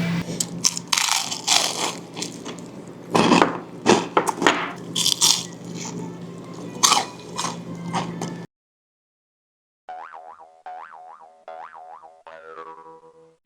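Crunchy Korean market-style fried chicken being bitten and chewed, a run of loud, close, irregular crunches for several seconds, then a pause followed by a quick series of bouncy boing-like cartoon sound effects.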